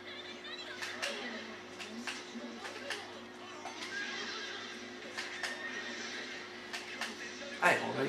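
Horses neigh and whinny in the PS3 game JoJo's Bizarre Adventure, with repeated whinnies rising over steady game noise while a voice talks over them.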